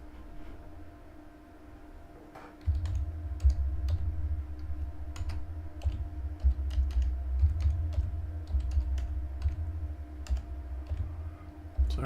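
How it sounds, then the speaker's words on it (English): A computer keyboard is typed on one-handed, giving slow, uneven clicks and taps over a steady low rumble in the room. "I'm typing one-handed."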